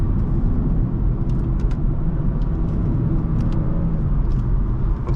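A 2017 BMW 440i Coupe in Sport mode accelerates hard, its engine a loud, steady, continuous roar with heavy low rumble and road noise throughout, no talking.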